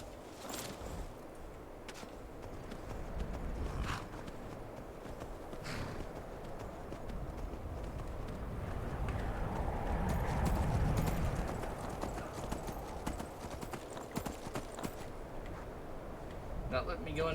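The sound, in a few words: horse hooves clip-clopping while riding in Skyrim video game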